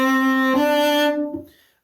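A cello plays a short legato passage from a Suzuki Book 2 piece, Theme From Witches Dance, measures 27 and 28 with an extended fourth finger: a few sustained bowed notes, close and clear, ending in silence.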